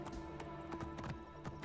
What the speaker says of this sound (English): We'll call the horse to us if it's around anywhere.